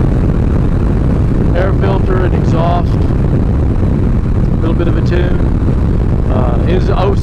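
A 2006 Harley-Davidson Fat Boy with an 88 cubic inch stage 1 engine, Screaming Eagle air filter and exhaust and a light tune, ridden on the road: a steady, dense low engine drone mixed with wind buffeting, with someone talking over it.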